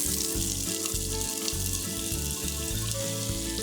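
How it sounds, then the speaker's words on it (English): Onions sizzle in a pan coated with meat juices and oil for a chunky chilli, making a continuous loud hiss against a low, pulsing rumble. "I'm going to put into my pan, which has got all those lovely meat juices and still some oil, my onions."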